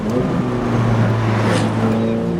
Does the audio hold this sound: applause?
no